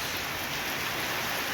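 Rain falls outdoors as a brief, steady, even hiss, soft and without any other sound over it.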